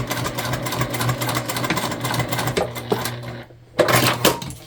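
A sewing machine top stitches along the seam edge of a multi-panel fabric tote bag, running in a fast rapid patter with a low steady hum, briefly stopping and then restarting.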